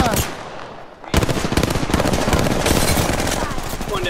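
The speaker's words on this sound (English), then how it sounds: "Opening fire on the enemy." Rapid automatic gunfire in Apex Legends starts abruptly after a short quieter moment and rattles on loudly and close for several seconds, with game sounds mixed in and a voice faintly present.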